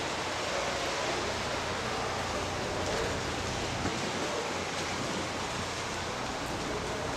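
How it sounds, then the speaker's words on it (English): Heavy rain falls in a steady, dense hiss with no breaks, fairly loud and close, like a downpour heard outdoors or on a car in Brazil. "Really raining."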